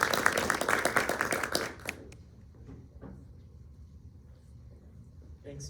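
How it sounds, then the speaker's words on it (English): A room full of people applauds to welcome a speaker at a talk: dense, fairly close clapping for about two seconds, quickly thinning out and dying away into quiet room tone with a few faint stray sounds. "please join me to welcome him with a warm round of applause"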